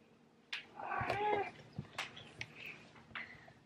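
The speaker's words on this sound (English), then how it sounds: "baby kitty" A cat meows several times close by, a drawn-out wavering cry followed by shorter, quieter mews in a quiet room.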